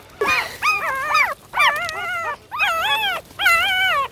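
A newborn puppy, eyes still closed and covered in mud, whimpers in four separate high, wavering cries, each lasting about half a second to a second with short pauses between, close and fairly loud.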